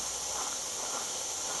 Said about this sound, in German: Da tut sich jetzt Wasserstoffperoxid spalten in Sauerstoff und Wasserdampf.